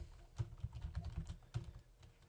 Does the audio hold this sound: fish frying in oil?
no